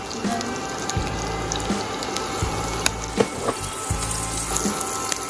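Finely chopped onion goes into a pan and sizzles softly, with a few low thuds and light clinks of the pan nearby and no speech.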